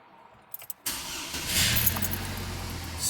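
A GMC/Chevy pickup engine cranks briefly after a few faint clicks, then fires and settles into a steady, close idle, with no talk over it.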